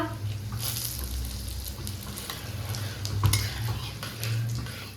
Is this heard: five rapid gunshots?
no